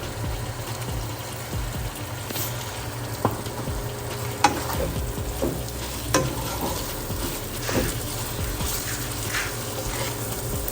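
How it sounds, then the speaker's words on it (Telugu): Chicken sizzles in a frying pan while a spatula stirs and scrapes it, with steady frying hiss and repeated clear scraping strokes, close and loud, no one talking. "ఇక్కడ మీరు చూస్తే చికెన్ బాగా ఫ్రై అయిపోయింది"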